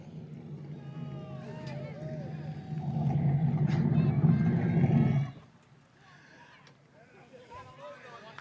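A race car engine at Lee USA Speedway pulls into victory lane, a loud low rumble that swells for a few seconds and then drops to a quieter idle, with crowd noise and an announcer's voice over it.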